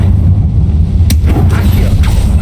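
A Confringo blasting spell in Hogwarts Legacy going off as a sharp burst around one second, with a lighter pop later, over a loud, dense low rumble of game ambience.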